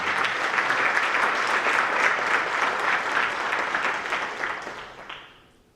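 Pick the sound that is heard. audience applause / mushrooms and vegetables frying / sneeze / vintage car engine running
audience applause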